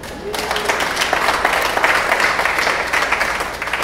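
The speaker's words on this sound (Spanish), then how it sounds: "Bien, un aplauso." A lecture audience breaks into sustained applause right after a call for it, a dense, steady wash of many hands clapping at close range that carries on evenly for several seconds.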